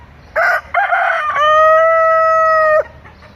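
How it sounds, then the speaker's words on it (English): A rooster lets out a single loud, close crow, a long drawn-out call rising and holding before cutting off, among many birds roaming freely, with no talking. "They have a lot of birds, most of them freely roaming around."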